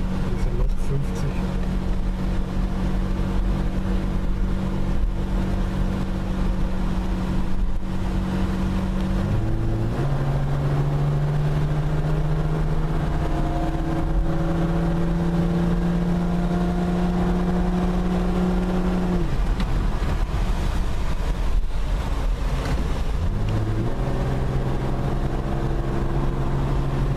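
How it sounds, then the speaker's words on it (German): A Mercedes R107 converted to run on gas drives along, its engine droning steadily with audible gear shifts as the pitch drops and climbs again, under constant road and wind noise. "wir fahren jetzt einfach mal eine Runde"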